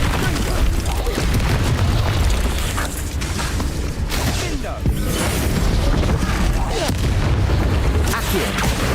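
The Bombarda blasting spell in Hogwarts Legacy goes off in a series of loud, booming explosions, with rumbling blasts and debris-like crackle filling the scene under a voice shouting spell names.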